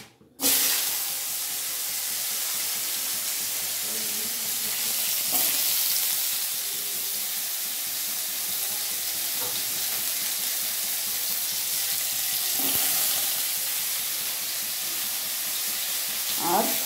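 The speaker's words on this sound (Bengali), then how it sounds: "আর আছে মূলোটাও হালকা লাল করে ভেজে নেব।" Radish pieces fry in a pan with a steady, close sizzle and hiss, broken now and then by the scrape of stirring, with no voices over it.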